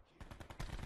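Rapid gunfire in Call of Duty Black Ops 4, a quick burst of about six muffled shots fired through a wall, rather quiet and close together.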